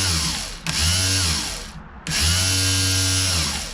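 The starter motor of a 1998 MTD lawn tractor runs on a weak battery, giving two loud whirring bursts close by with a brief pause between them.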